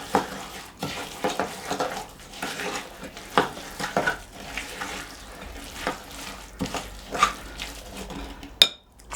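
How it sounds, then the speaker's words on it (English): Oat and raisin cookie mixture stirred in a bowl, repeated scraping and knocking strokes in an uneven rhythm, close and moderately loud, ending with a sharp clink. "Give that a stir in as well."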